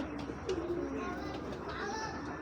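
Military-breed pigeons coo softly in low, throaty murmurs amid a busy background of rustling and faint murmuring, the calls rising and falling across a couple of seconds.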